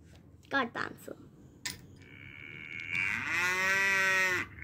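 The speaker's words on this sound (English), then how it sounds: "Is that a cow mooing?" A cow lets out one long, loud, drawn-out moo near the end, preceded by a few short voices and knocks at a school science fest skit.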